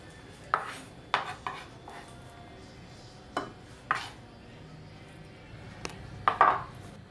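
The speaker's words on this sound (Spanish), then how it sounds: "Picamos muy picadito." A knife knocks sparsely against a cutting board, a handful of separate close taps with pauses between them, while ingredients for stuffed avocados are finely chopped. No one speaks.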